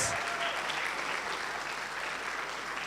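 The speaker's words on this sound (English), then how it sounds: "A round of applause." Applause rings out at a graduation ceremony, a dense, steady wash of clapping from a large audience that holds at the same loudness for its whole length, with no talk over it.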